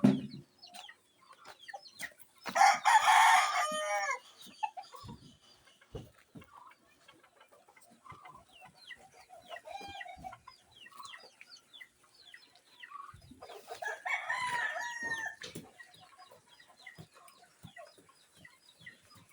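Chickens cluck and chatter nearby in a farmyard, including a hen, with two louder bursts of squawking or crowing rising above the steady low clucking.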